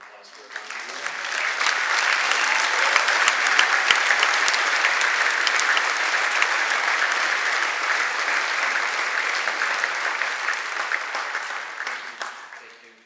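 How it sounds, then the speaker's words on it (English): A concert audience applauds in honor of Yvonne: clapping swells quickly into a sustained, dense round lasting over ten seconds, then tapers off at the close. "Could we have a big round of applause for Yvonne?"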